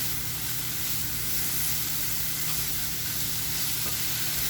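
Mushrooms with BBQ seasoning fry in a pan with a continuous, dense sizzle and hiss, close and even throughout, with no talking.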